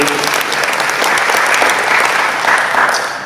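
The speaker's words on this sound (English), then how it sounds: "Let's give them a big round of applause." Sustained applause from a large crowd, steady clapping throughout with a few faint cheers, fading slightly at the end.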